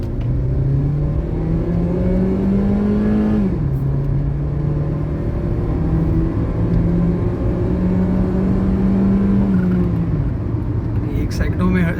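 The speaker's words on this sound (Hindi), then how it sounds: "अब मैं गाड़ी को थोड़ा सा थ्रोटल देके देखता हूँ।" A 2012 Honda Civic Reborn engine is revved under throttle in two rising pulls, each building up and then dropping back, with a loud, continuous drone over road rumble while someone talks over it.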